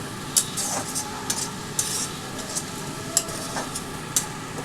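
Ginger-garlic paste fries quietly in a pan for tel koi, a fish curry. A soft, steady sizzle runs throughout, broken by light, regular scrapes and clicks of a stirring spoon.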